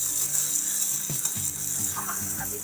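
Okra sizzles and fries with masala in a pan, a steady loud hiss broken by the scrape and clack of stirring.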